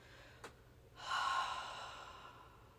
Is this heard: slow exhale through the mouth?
yes